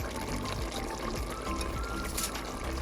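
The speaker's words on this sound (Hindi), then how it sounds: "अब मैं इसके अंदर चावल डालूँगी।" Uncooked rice pours into a cooking pot of softened tomatoes for potato and peas rice, a continuous soft rushing patter lasting a few seconds with no talking.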